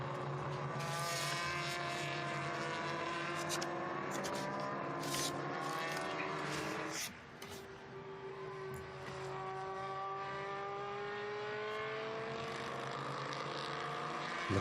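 Historic race cars at the 2021 Estoril Classics in Portugal, engines screaming at high revs as they pass close by. Their pitch rises and falls with overlapping Doppler sweeps, and a brief dip comes between passes under a steady loud roar.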